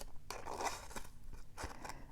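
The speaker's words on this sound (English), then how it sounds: "you move the paper and not the scissors" Scissors cutting paper for handmade craft tags, a few short, crisp snipping strokes in an uneven rhythm, close up and quiet with no talk.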